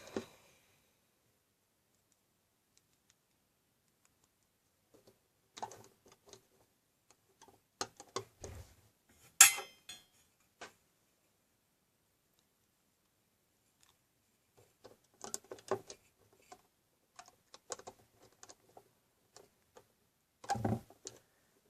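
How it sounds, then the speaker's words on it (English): Sparse, faint plastic clicks and ticks from a Rainbow Loom, coming in scattered bursts separated by long quiet gaps. "Sorry about all the noise that my loom is making"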